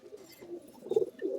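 Paired domestic pigeons coo softly at close range in a few low, rolling calls, quiet and alone, with no talking.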